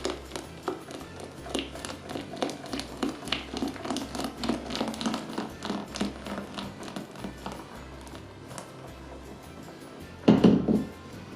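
Egg and sugar beaten by hand in a bowl, a fast irregular run of light taps and scrapes of a utensil against the bowl, with a louder clatter near the end.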